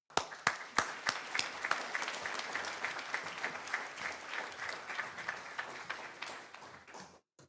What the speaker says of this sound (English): if I get a round of applause.